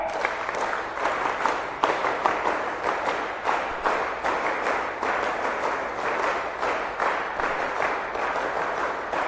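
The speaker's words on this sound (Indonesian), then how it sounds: "sebelum keluar kita tepuk kontak center." Rhythmic group clapping from an audience at a training session, loud and close, with repeated bursts of many hands striking together in a patterned beat.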